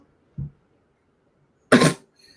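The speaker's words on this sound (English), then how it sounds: "My vape makes me cough." A soft throat-clearing cough is followed a moment later by a louder, harsher cough, both close by in an otherwise quiet room.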